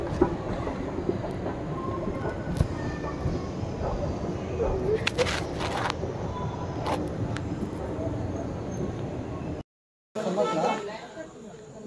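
A train passing at a Mumbai railway station: steady rumbling wheels and rolling carriages with brief squeals and clatter, fairly close, under faint crowd noise and voices, with a short gap of silence near the end.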